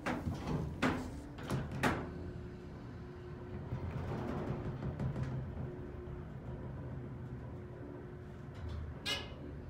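An old freight elevator door with a 2,100-pound capacity rumbles and rattles as it moves, with sharp clanks near the start and a scrape near the end over a steady low hum.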